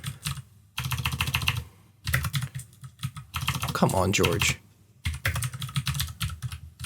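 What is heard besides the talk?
typing on a computer keyboard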